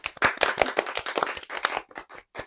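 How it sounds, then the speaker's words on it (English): A small group claps briefly with uneven, close hand claps that thin out and trail off after a couple of seconds. "Round of applause for Mariko."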